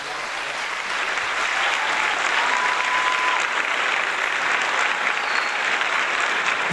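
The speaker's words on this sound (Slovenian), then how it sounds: "Dajmo en aplavz za našega župana." A large festival audience gives the mayor warm, sustained applause, dense clapping that holds steady and loud from start to finish with a faint murmur of the crowd underneath.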